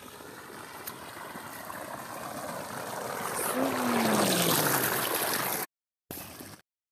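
Water flowing into a village field for irrigation: a steady, broad rush of running water that swells gradually louder, with a brief gliding tone partway through, then abrupt cuts near the end; no voices.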